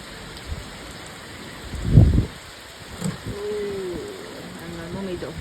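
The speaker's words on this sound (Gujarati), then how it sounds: "એટલી વારમાં તો વરસાદ આવી ગયો" Rain falls steadily in a sudden shower, a soft, continuous patter with a brief louder rumble early on and voices talking over it.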